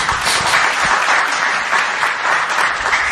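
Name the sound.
congregation applause in church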